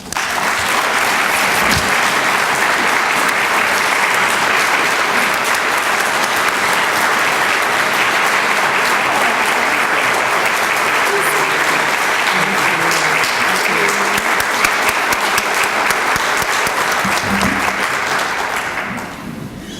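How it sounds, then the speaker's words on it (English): An audience at a human rights awards breakfast gives loud, sustained applause, thick even clapping that holds for nearly twenty seconds before easing off at the end, with a few faint voices mixed in. "Please welcome them with your applause."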